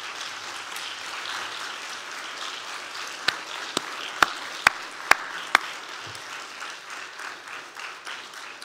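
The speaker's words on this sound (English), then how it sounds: "give a big round of applause to the Heart and Stroke Foundation of Barbados" Audience applause at a campaign launch event in Barbados, a soft, distant patter of many hands filling the room, with a handful of sharp, louder individual claps standing out near the middle.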